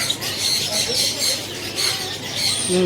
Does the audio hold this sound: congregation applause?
no